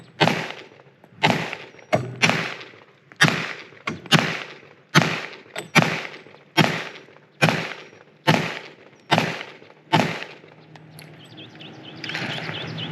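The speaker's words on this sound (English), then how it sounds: "we're gonna move on to transitioning targets, just two rounds" An H&K USP Tactical pistol fired during target transitions: about a dozen sharp, loud shots in quick, fairly even succession, some coming in close pairs, each followed by a short echoing decay.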